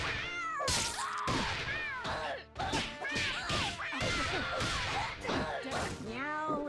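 Cats meowing in a video game match, a rapid overlapping chorus of loud, close meows and yowls with sharp whip-like cracks mixed in, dense and continuous throughout.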